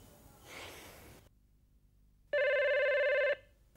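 A single telephone ring burst, clear and fairly close, sounds in a quiet indoor scene of an Indonesian TV drama after a soft breath or snort, then stops abruptly.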